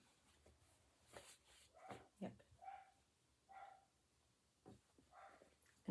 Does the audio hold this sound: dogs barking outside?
yes